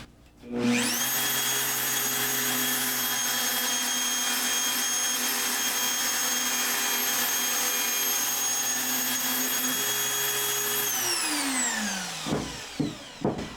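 A Mafell DDF 40 doweller drills dowel holes, its motor spinning up to a steady high whine that holds for about ten seconds before spinning down, followed by a few clunks from the tool being handled.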